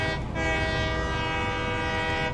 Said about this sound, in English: You gotta honk the horn whenever you're riding the train.